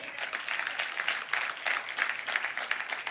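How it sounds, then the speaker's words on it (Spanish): A church congregation claps loudly during a sermon, a dense, continuous patter of many hands that holds steady from start to finish without talk. "Den un aplauso fuerte a Cristo."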